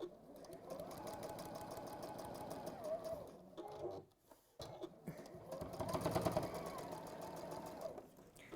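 Sewing machine stitching steadily through several layers of cushion fabric, a continuous fast mechanical whir that pauses briefly in the middle, then resumes louder, up close with no talking.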